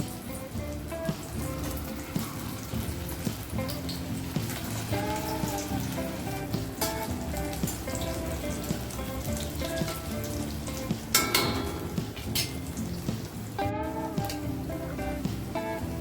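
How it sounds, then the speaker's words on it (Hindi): Potato tikkis fry in hot oil over a full gas flame, giving a steady, dense crackling sizzle that runs throughout with no talking. "तो अब हम फुल गैस पर ही इन टिक्कियों को फ्राई करेंगे।"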